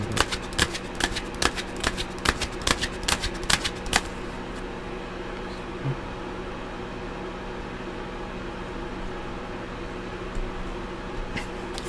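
A deck of tarot cards is riffle-shuffled in a quick series of crisp, close ruffles for about four seconds, then only a steady background hum remains.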